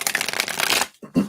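Tarot cards shuffled by hand in a quick riffle lasting under a second, close and crisp, followed by a couple of soft taps as the deck settles.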